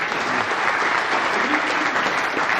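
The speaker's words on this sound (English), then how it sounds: "give them a round of applause" An audience at a community association candidate forum at the Venetian claps for the candidates, a thick, sustained roar of many hands at steady volume with a few voices faintly mixed in.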